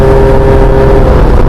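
A Yamaha Jog scooter's small engine runs loud and close, a steady continuous buzzing drone with a constant pitch throughout.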